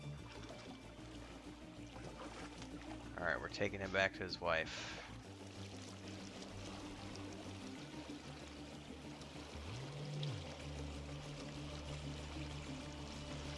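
Water splashing and pouring in Assassin's Creed Origins as a man in the water is escorted to a boat, a steady wash beneath a voice, with a low engine-like hum joining later.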